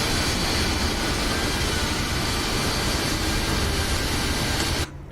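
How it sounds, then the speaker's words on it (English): A steady, loud jet engine roar of an Aeromexico Embraer 190 in Microsoft Flight Simulator 2020 fills the air without a break, then cuts off sharply just before the end. "Is that an aircraft coming in there?"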